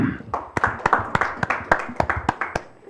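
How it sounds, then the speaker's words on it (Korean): Scattered clapping from a small group at a forum panel discussion, distinct sharp claps in an uneven rhythm for a few seconds. "큰 박수 부탁드립니다"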